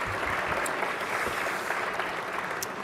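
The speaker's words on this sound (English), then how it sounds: "A round of applause." Conference audience at a travel trade show session applauds after a startup pitch, a short, continuous burst of clapping from a sizeable crowd, fairly distant and even.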